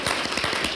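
Brief burst of dense audience applause for a seminar panel, steady clapping from a crowd in a hall.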